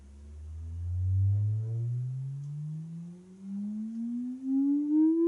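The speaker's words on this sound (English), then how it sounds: "Here's sound sine wave." A steady pure electronic sine-wave test tone from a Pulp Fiction pinball machine in diagnostics mode, starting low and gliding slowly upward in pitch, loud and alone with no talking.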